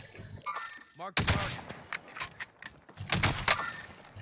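Gunfire from the online shooter game Call of Duty Warzone: several sharp, loud bursts and single shots break out in clusters, with a fast rattle of automatic fire, while players talk in between.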